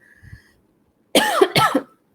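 Two sharp, loud coughs in quick succession, close up, during a live podcast stream, after a brief quiet pause with a faint tone.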